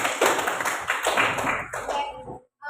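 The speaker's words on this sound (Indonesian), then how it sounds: "aplaus untuk pemikiran kalian semua" A classroom applauds together, a dense patter of many hands clapping at close range that keeps up steadily for about two seconds and then stops abruptly.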